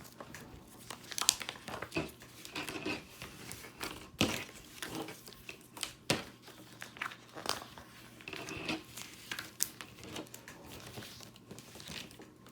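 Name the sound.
peeling holographic heat transfer vinyl off backing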